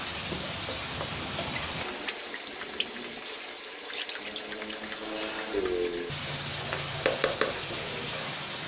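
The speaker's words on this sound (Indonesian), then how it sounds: "jadi kita aduk aja di ember ini ya" Water swirls and splashes in a bucket as it is stirred by hand while mixing a treatment for koi fry, a close, continuous sloshing and trickling with a few louder splashes.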